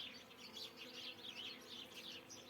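German-breed honeybees buzz around a hive in winter snow, a faint, steady swarm hum with small chirping tones flickering over it.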